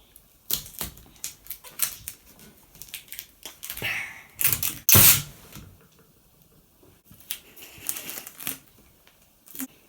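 Sellotape is pulled and pressed onto a plastic sheet while a paper squishy is made, sounding as irregular close crinkles, crackles and sharp tearing bursts, with one loud rip in the middle.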